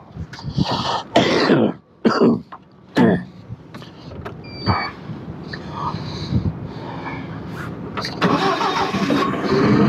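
An Octane FD50 11,000 lb diesel forklift engine cranks in several sharp, loud bursts, then catches and settles into a steady, rough idle that grows slightly louder toward the end.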